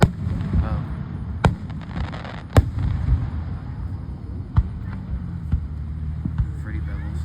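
Fireworks set off at the side of a road, with several sharp bursting bangs spaced a second or two apart over a rumbling outdoor background while people talk.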